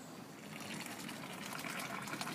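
Hot strike water gushes and splashes steadily into a mash tun during a German lager brew day, a continuous pouring wash that holds even throughout.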